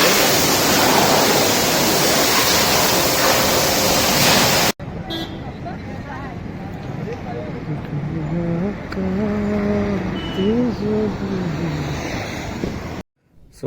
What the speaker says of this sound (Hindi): अच्छे से धुलाई हो रही है भाई